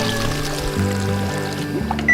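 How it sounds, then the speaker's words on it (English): Slushies from a fully automated Lego shaved-ice machine, strawberry and blueberry, are poured into cups, giving a steady close liquid pour over a humming tonal background, with a brighter burst near the end. "The slushies are ready to serve. I'll pour them into the cups."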